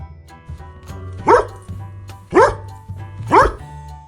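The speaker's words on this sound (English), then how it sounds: "Dog." Dog barking three times at roughly one-second intervals, each a loud, close, single woof, over a soft, steady background hum and faint ticking.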